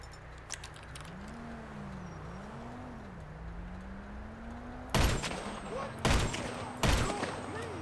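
Three sharp marksman rifle shots ring out in GTA Online, fired at lights from a hiding spot in a bush, spaced about a second apart after a quiet stretch of ambient game noise and a low rising tone.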